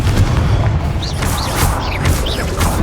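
Repeated Confringo fire-spell blasts from Hogwarts Legacy, a video game, with heavy low booms and crackling bursts against a dense, loud, continuous wash of combat noise and no speech.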